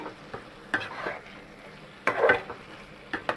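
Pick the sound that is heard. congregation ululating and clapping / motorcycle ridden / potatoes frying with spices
potatoes frying with spices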